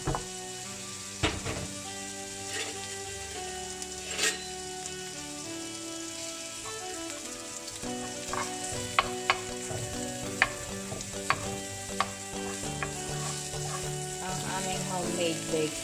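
Homemade bacon sizzles and crackles steadily in a pan, with occasional louder pops and stirring clatter up close.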